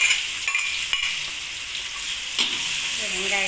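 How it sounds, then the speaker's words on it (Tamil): Onions sautéing in oil left over from frying anchovies, a steady close sizzle with bright hiss and a few scraping stirs of a spatula, no talk. "நெத்திலி பொரிச்ச எண்ணெயில் தாங்க வெங்காயத்தை வதக்க போகிறேன்"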